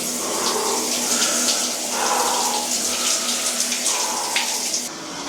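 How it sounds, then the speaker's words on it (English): Cold shower water runs in a steady, close hiss, with a few splashy shifts where the flow is interrupted and resumes, and no voices. "let's hop into this and get into this cold shower"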